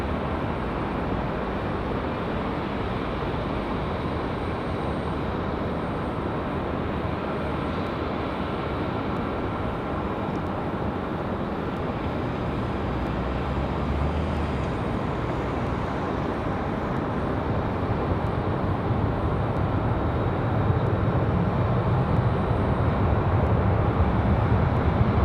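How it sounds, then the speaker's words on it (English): An Airbus A320 airliner arriving at Raleigh-Durham airport, a loud continuous broadband engine roar that holds steady and swells slightly toward the end, with no voices. "Arrival for the A320."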